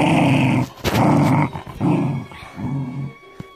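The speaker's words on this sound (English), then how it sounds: "My dog, who always growls." A dog growls in several sustained, rumbling bursts separated by short pauses, loud and close, with no talking.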